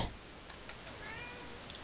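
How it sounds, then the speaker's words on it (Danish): A pet house cat meows indoors, a single drawn-out, rising-then-falling cry heard fairly faintly against a quiet room, with no one talking. "Nå, det er min kat."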